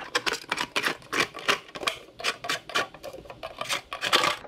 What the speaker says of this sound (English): I'm gonna unscrew the bottom here.